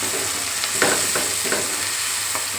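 Curry leaves crackle and fry in hot oil for a meat curry while a utensil stirs and mixes them, giving steady close sizzling broken by a few louder scraping strokes.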